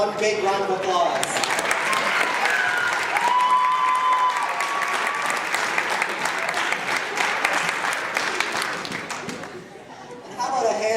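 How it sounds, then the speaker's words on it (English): A large audience at a charity event breaks into sustained applause, loud and dense clapping with some chatter and cheers, easing off toward the end. "One big round of applause."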